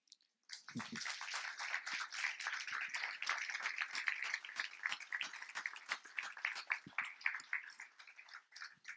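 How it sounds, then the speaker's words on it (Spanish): A small audience at an interview event applauds a doctor, a thin patter of individual claps that starts suddenly, stays fairly quiet and grows sparser toward the end. "Por si le quieren prolongar un poquito el aplauso."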